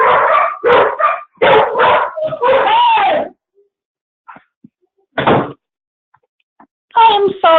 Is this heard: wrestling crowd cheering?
no